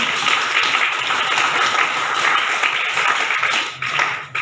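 An audience at a science event in Dhanbad applauds an invited guest, a dense, loud, continuous clatter of many clapping hands that holds steady and then thins out at the end.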